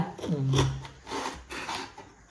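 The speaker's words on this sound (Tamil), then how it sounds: "அடுத்ததாக நம்ம குடமிளகாவை கட் பண்ண போகிறோம்" A knife cuts through a bell pepper on a board in three close, crisp slicing strokes with rasping crunches, and a brief voiced sound near the start.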